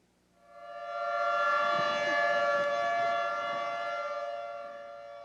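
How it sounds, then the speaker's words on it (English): A civil defense tornado siren in Hesston, Kansas wails loudly and steadily, rising in quickly and holding a sustained tonal howl with layered harmonics before easing slightly. "I was outside when the first siren sounded"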